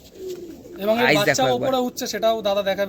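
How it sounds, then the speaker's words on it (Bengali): Restless male and female pigeons coo close by in throaty bursts, with a person talking over them. "ধরে রাখতে পারছে না এত ছটপটে পায়রাগুলো"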